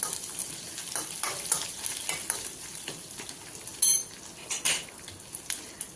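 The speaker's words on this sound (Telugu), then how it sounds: "ఎండుమిర్చిని కూడా ఎర్రగా అయినంత వరకు మాడకుండా వేయించుకోవాలి." Dried red chillies fry in a pan with a soft continuous sizzle, joined by a stirring utensil that scrapes and clinks against the pan in several sharp strokes.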